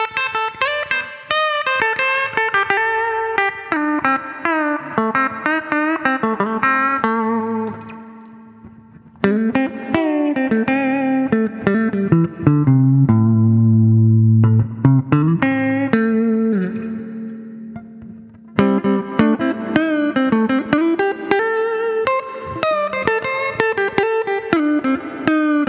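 Epiphone Les Paul Special II electric guitar played with a clean tone, rhythmic strummed chords and melodic runs over about twenty-five seconds, with a brief sustained low-chord passage midway, loud and close.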